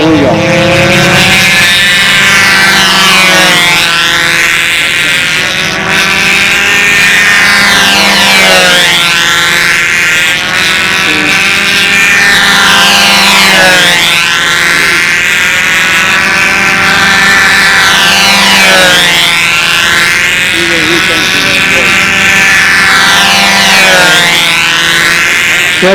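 A model Tigercat aircraft engine drones loudly and continuously at a flying contest in Hampton, Maryland, its pitch rising and falling in repeated sweeps as the plane circles past, with people talking faintly underneath.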